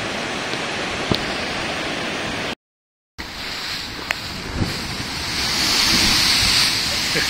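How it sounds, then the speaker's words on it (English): Large Mediterranean sea waves break at Barcelona in a steady broadband rush of surf mixed with wind buffeting. A short dropout interrupts it, and the roar swells louder toward the end. "There's some large waves in here."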